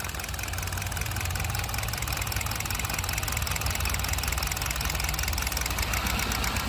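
A vehicle engine in perfect condition running at a steady idle, a close, even mechanical drone with faint knocking texture and no variation in pitch or speed.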